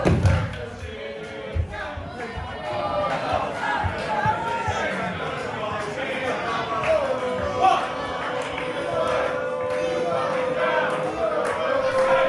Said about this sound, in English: The crowd behind Nino Bryant and against David.